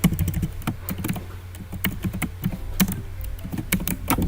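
Fingers type on a computer keyboard, making rapid, irregular, close-up clicks and clacks with short pauses between bursts of keystrokes, with no speech.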